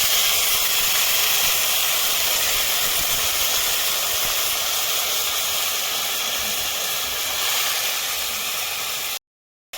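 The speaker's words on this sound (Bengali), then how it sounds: "আমি সামান্য বয়েল দিয়ে দেবো।" A pan of curry simmers and boils on the stove, giving a steady, loud bubbling hiss that runs for most of the time before cutting off abruptly near the end.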